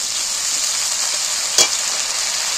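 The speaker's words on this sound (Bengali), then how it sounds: "এবার আমি টমেটোটাকে ভালো করে একটু ভেজে নেবো" Tomato frying in a pan gives a steady, loud hiss of sizzling oil throughout, with one brief sharper crackle near the middle.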